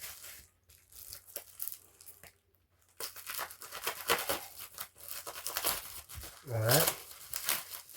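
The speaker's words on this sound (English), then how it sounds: "I could just cut the tape" Packing tape or plastic film is cut and peeled off a wrestling belt's packaging, giving close crinkling, tearing and rustling in bursts after a quiet start.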